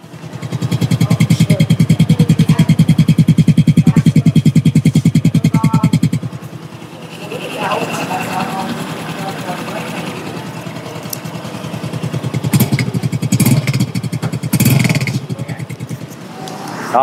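A Honda Wave RSX FI motorcycle engine runs close by in a dealer's shop, with a loud steady idle putter for several seconds, then a quieter, rougher running with a few throttle blips and clatters.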